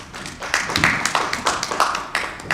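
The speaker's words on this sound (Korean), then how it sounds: "자연스럽게 박수가 나왔습니다" Audience applause at a Korean financial forum on digital assets, a dense burst of many hands clapping steadily throughout, fairly close and loud with no talk over it.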